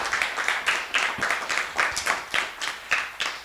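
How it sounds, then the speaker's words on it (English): An audience at the Wakefield Human Rights Commission's 2025 International Women's Day forum applauds, the claps merging into a steady, rhythmic patter that stays close and lively for several seconds. "let's give a big round of applause for Ian and his team at WCAT"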